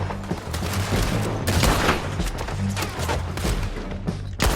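Sustained in-game gunfire from Red Dead Redemption 2, a dense fusillade of overlapping shots and booms that continues without a break, loud and close, over a low rumbling background.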